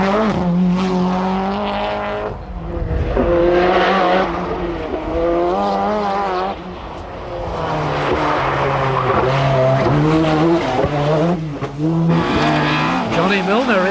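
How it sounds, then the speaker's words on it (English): A Group A Peugeot 205 rally car at full throttle on a 1992 Donegal International Rally stage, engine note rising and falling loudly through gear changes with tire noise, heard under continuous commentary. "pedal to the metal in the Group A 205"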